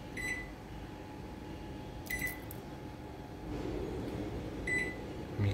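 An LG microwave oven with a burnt-out magnetron runs with a steady low hum, while three short electronic beeps sound at intervals over the drone.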